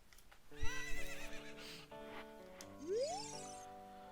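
A horse whinnies loudly and close in Zelda Ocarina of Time, a long rising and falling neigh lasting several seconds, with a brief clatter of hooves at the start.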